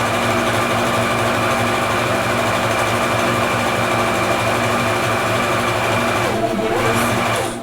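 Sewing machine running fast and continuously, stitching a bag pocket in reverse, a steady close mechanical whir that stops at the end.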